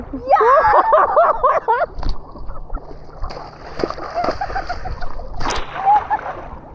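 Water splashing and sloshing as people bathe in a river, with voices talking and laughing over it; splashes come in bursts, close by.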